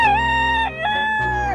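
Rooster crowing in a children's story, one long loud cock-a-doodle-doo heard close and alone with no talk.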